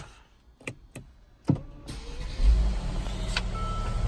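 A Mercedes-Benz GLE is started with its push button: a few soft clicks in a quiet cabin, then the engine cranks and catches into a steady low idle.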